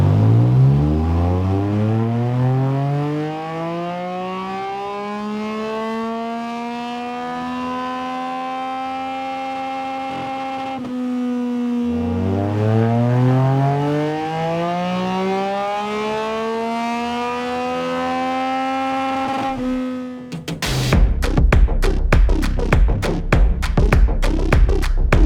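A Yamaha MT09 motorcycle fitted with a BHP prototype exhaust revving on a dyno, two long rising sweeps in engine pitch climbing toward the limiter, each cutting off sharply, then a loud burst of rapid pops and crackles at the end.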